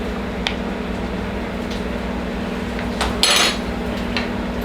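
Cheese and pickle juice are stirred in a bowl, giving faint scattered clicks of a utensil against the bowl and one louder scrape near the end, all over a steady low hum.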